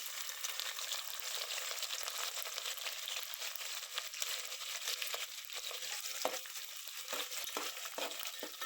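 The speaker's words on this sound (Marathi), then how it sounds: "आता तेल गरम झालेलं आहे, यामध्ये आपण कांदा भाजून घेऊया" Chopped onion frying in hot oil for a vegetable biryani gives a steady, fairly loud hiss that runs unbroken throughout, with a few soft stirring knocks near the end.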